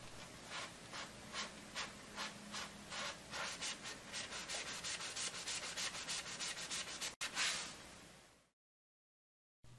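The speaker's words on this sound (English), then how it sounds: "If you have a wood shaft that is really dirty like this, use a damp piece of magic eraser." A damp magic eraser scrubs a dirty wooden pool cue shaft in quick back-and-forth strokes, a steady rhythmic rubbing close up that speeds slightly before stopping abruptly.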